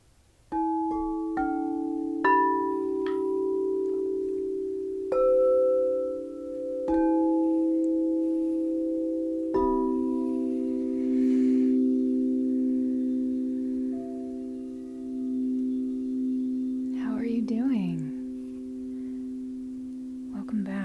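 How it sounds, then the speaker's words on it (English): Sound-healing tones tuned to 432Hz are struck one after another, each bright onset ringing into a smooth, layered drone that hums on at a steady, moderate level with no speech. "Well, those were some beautiful tones, Sandalphon."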